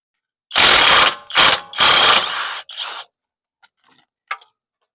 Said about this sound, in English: I'm going to take my other 21mm socket, and I'm going to hold this side with that. This side's going to do all the work.